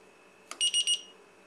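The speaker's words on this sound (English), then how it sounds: "it'll actually give you an alarm at that voltage" A BEC power distributor's low-voltage alarm sounds: a sharp click, then three quick, loud electronic beeps in a row, heard alone with a faint steady tone in the background.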